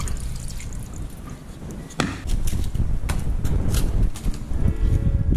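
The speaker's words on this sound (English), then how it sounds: "I'll wash out the okra and thing now and cut them up now" Okra is rinsed in water, with splashing, dripping and trickling liquid, a sharp knock partway through, and busy wet handling close by throughout.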